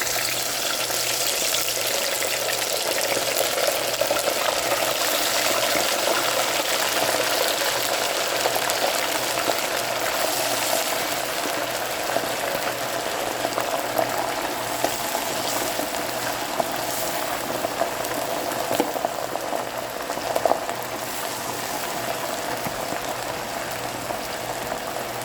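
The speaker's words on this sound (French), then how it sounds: "je vais frire le poisson." Fish fries in a pan of hot oil as part of an Ivorian-style meal served with attiéké, giving a continuous, dense sizzle and crackle that stays close and steady throughout with no talking.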